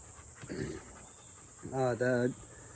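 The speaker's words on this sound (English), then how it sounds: "That's my dog Missy." A dog pants close by in short, breathy bursts, ending with a brief whiny, huffing sound.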